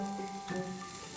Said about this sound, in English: If there is still room in the frying pan, you can add another batch of apple slices